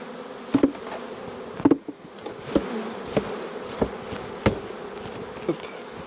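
Honey bees drone around a swarm being settled into a beehive, a steady close buzz broken by repeated sharp knocks and taps, with no talk.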